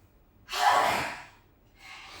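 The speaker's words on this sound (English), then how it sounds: "Inhale and exhale fully from your mouth. So blast of air coming out" A forceful exhale blasted out through the mouth during yoga breathing, one loud close rush of air lasting about a second, followed by a softer breath as the next one begins.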